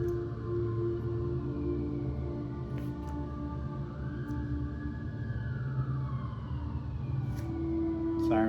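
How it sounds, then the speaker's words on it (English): An emergency siren wails in the distance, rising and falling in a long sweeping tone under a steady background hum, faint and continuous throughout. "Sirens, yeah."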